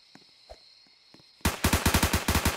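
Rapid automatic gunfire in a video game, a burst of evenly spaced loud shots after a quiet stretch of faint clicks.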